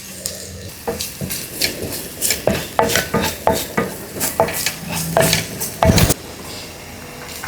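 Chopped garlic and ginger fry in a pan, a steady sizzle under repeated scraping strokes of a spoon against the metal and an occasional clink, close and fairly loud with no talk.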